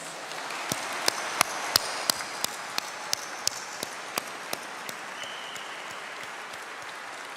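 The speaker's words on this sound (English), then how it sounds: "having a massive collective round of applause for all of our undergraduates" Sparse, distinct claps ring out at a graduation conferring ceremony for undergraduates, a handful of sharp single hits in a slowing rhythm over a faint room background that fade toward the end.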